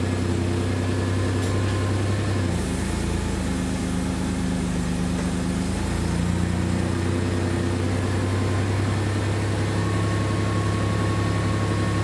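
Toyota 4Runner, third generation, running in reverse with wheels turning after axle seal and bearing work: a steady close engine drone with low hum throughout, no talk.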